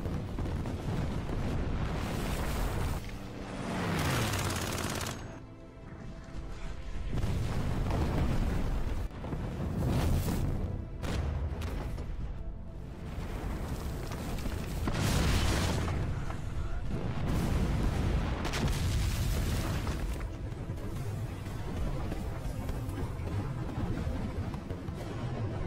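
German artillery firing in a war film, a series of heavy booms and blasts spread irregularly through a dense, loud rumbling battle soundscape.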